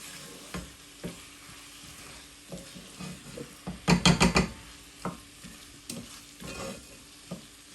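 Chicken jalfrezi sautéing and frying in a pan, with a soft background sizzle broken by sharp spatula scrapes and clatters, including a quick cluster of loud strokes midway.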